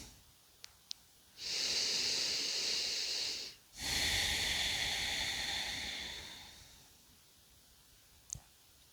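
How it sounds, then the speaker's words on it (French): Deep, conscious breathing during a yin yoga pose: one long, breathy inhale followed by a slightly longer, steady exhale, close and clearly audible over a quiet background. "Encore 3 respirations profondes et conscientes"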